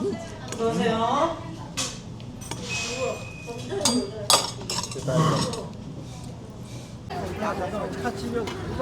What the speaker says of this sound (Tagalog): Haluin na natin yung bibimbap mo.